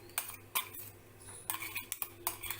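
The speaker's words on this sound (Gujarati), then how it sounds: "આવી રીતે ચમચામાંથી પાણી લઈ મિક્સર જારમાં ચોટેલી બધી પેસ્ટ લઈ લેવી" Metal spoon scraping and clinking against a steel mixer jar to gather red and green chilli paste for rice-flour khichu, several short sharp scrapes and taps close by, no voices.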